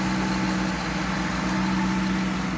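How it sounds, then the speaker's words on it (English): A 2005 Cadillac XLR's engine idles with a steady, close, even rumble and a faint rhythmic pulse, no voices present. "But a nice running engine."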